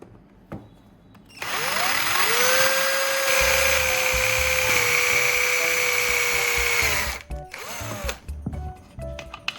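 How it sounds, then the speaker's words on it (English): A power drill whirs steadily for several seconds, its pitch rising as it spins up and bites through a plastic bottle cap, then winds down and stops. "Drill a hole in the bottle cap."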